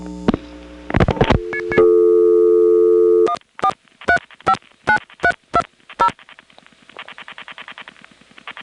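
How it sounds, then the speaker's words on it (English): Reorder tone from a Step-ESS telephone exchange carried over a wire trunk, heard after several dial and busy-type tones: a regular train of evenly spaced, clear beeps, then a softer rapid pulsing at the end. "At the end of the recording, there's a reorder tone which is coming from the northwest building"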